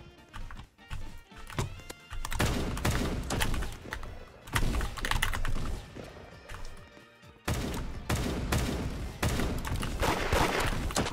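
Gunfire in the Roblox game Da Hood, dense rapid bursts of shots with short gaps between volleys, loud and busy over game background noise.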